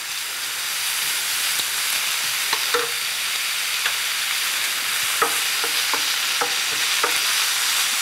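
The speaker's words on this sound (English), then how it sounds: "I like to cook the onion down a little bit first before I add the garlic" Onion cooks down in a pan while making homemade gnocchi, giving a constant broad sizzling hiss close by, broken by a run of light clicks and taps of a utensil stirring, with no voices.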